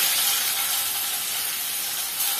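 Chicken pieces dropped into hot coconut oil for chicken rice make a loud, dense, unbroken hiss of frying that fills the moment close up, without pauses.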